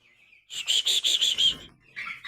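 High, rapid peeping in a quick run of about six bright calls, then a short pause and a softer pair of peeps, close by.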